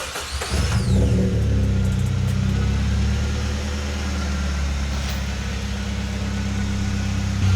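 A lowered Toyota Yaris engine cranks and catches with a quick rev, then settles into a loud, steady idle close by.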